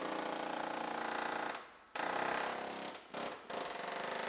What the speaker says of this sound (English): we bring out everyone's favorite tool, or at least mine, the pneumatic can opener